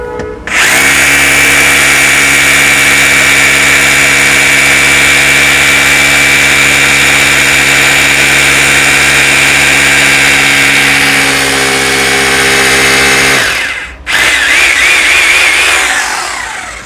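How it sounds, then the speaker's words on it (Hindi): A Chesston rotary hammer in drill-plus-hammer mode bores into stone with a 10 mm bit, a loud, steady grinding whine held for about thirteen seconds, then a brief stop and a second short burst. "ये जो हमारी चेस्टन की मशीन है रोटरी हैमर, इसने कितनी जल्दी यहाँ पे ड्रिल कर दिया है"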